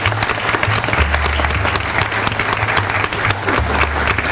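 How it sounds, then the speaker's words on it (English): An audience at a University of Louisville sustainability teach-in on climate warming gives loud, dense applause, a sustained wash of close clapping that runs the whole length without pause. "Rachel Connolly and Keith Mountain, let's just have a round of applause for sustainability at University of Louisville."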